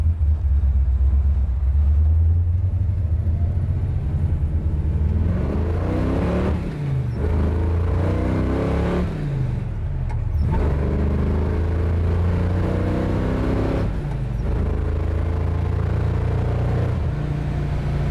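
A 1969 Plymouth Road Runner's 512 Hemi V8 rumbles, then revs up and climbs through the gears in several rising pulls, loud and close throughout.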